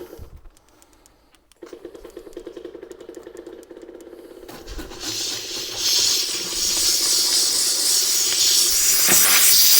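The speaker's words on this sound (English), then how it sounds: "you catch me with the old steam cleaner out" A steady, loud hiss of a steam cleaner cleaning a car's boot interior builds up and continues, with a low rattling mechanical chatter heard in the first few seconds.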